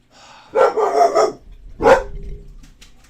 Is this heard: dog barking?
yes